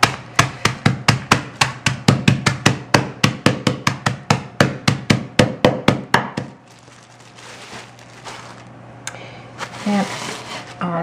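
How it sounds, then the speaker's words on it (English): Ritz crackers sealed in a bag are whacked about two dozen times in a quick, even series of sharp, close thuds, then rolled with a duller grinding crunch, while a steady low hum runs underneath. "I'm just going to give these a few whacks and then roll them to crush them"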